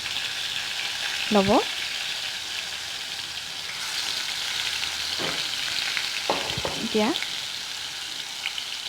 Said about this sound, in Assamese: মাছখিনিও মোৰ হৈ গৈছে ভজা